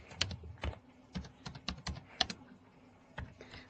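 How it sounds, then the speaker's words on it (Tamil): Typing on a computer keyboard while working in Excel, with uneven clusters of close, crisp key clicks and a few firmer presses like the enter key, no voices. "டைப் பண்ணிவிட்டு என்டர் பண்ணால் ஓகே"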